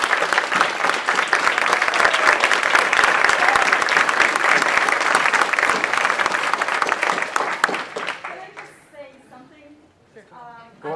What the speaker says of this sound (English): So can we clap for Bettina?